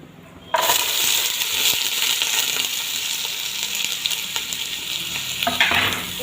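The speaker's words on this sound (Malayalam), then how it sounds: "ഇതൊന്ന് വഴറ്റി വരുന്നവരെ ഒന്ന് ഇളക്കി കൊടുക്കാം." Chopped onions sauté in coconut oil in a pan while being stirred, producing a loud, steady, close sizzle with faint scraping of the spoon throughout and no talking.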